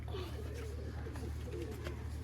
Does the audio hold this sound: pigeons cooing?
yes